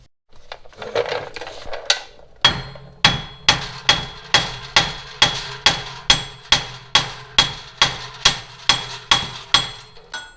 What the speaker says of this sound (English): we're going to smack it with a big hammer